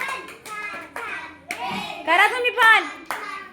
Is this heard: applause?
yes